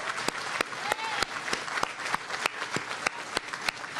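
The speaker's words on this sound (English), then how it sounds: "So give everybody a round of applause." Crowd applause at an outdoor groundbreaking ceremony for a town center, steady clapping with sharp individual claps standing out, moderately loud and close, with faint voices mixed in.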